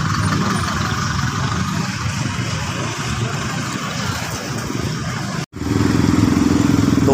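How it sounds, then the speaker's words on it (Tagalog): Steady street traffic of motorcycles, tricycles and cars passing close by, a continuous rumbling engine wash that briefly cuts out and then resumes with a lower idling drone. "puro motor, tricycle, tsaka sasakyan na"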